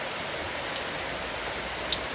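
Rain falls steadily, a soft, even hiss of drops with a few brighter ticks of individual drops hitting a surface, fairly faint and with no one speaking.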